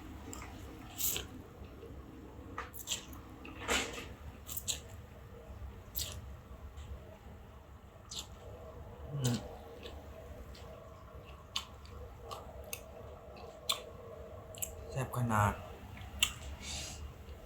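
Close, moist chewing and biting on a spicy glass noodle salad with squid, giving scattered soft squishy crunches and occasional clicks over a quiet room, with faint background voices at times.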